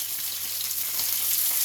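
Pork spider steak sizzles steadily in fat in a frying pan, a close, continuous crackling fry with no one speaking.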